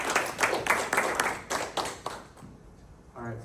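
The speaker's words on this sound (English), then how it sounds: "let's welcome them and give them a round of applause" Scattered audience clapping greets a student team presenting an AI-powered fitness tracking project, moderately loud for about two seconds and then fading out, with a voice beginning to speak at the very end.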